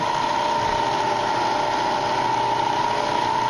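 A Bridgeport milling machine spindle running at low speed, a steady close mechanical hum with a constant whine and no change over the few seconds.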